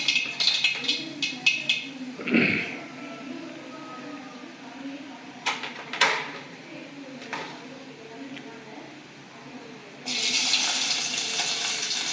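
Mustard seeds crackle and sizzle in hot oil while cooking Thoothukudi-style arai keerai kadaiyal, a steady frying hiss with scattered sharp pops, briefly louder near the start and swelling into a bright rush near the end; a voice speaks over it.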